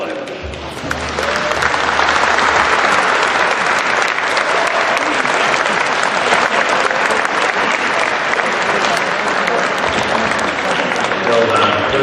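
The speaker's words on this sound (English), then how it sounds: "If you give them a good clap." Loud, sustained audience applause fills a university graduation ceremony at Central Queensland University, with dense clapping from a large crowd that holds steady throughout.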